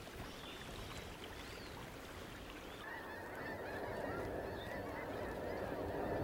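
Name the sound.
snow geese honking in flight over Nebraska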